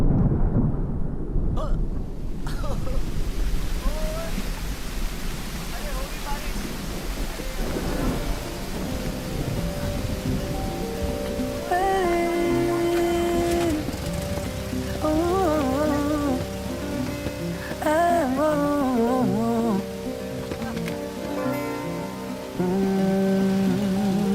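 Steady, dense rain hisses throughout, with a thunder rumble near the start; a melodic score swells in and plays over the downpour for the second half.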